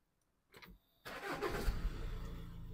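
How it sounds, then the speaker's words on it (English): Audi A6 with a turbocharger boost sensor fault cranks briefly, pauses, then catches and settles into a steady idle, heard up close and fairly quiet. "I'm going to start the car first"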